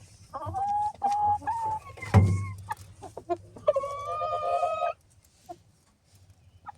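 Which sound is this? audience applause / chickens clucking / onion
chickens clucking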